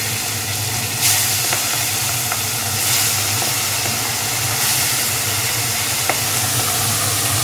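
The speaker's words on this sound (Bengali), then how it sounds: "এবার বাকি মাছগুলো ভেজে নেবে" Pieces of boal fish fry in hot oil in a home kitchen, giving a loud, continuous sizzle and hiss. A few sharp pops of spattering oil break through, and no one speaks.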